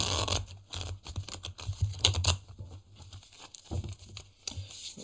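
Tarot cards being shuffled up close, a series of quick riffling and flicking bursts with short pauses between them.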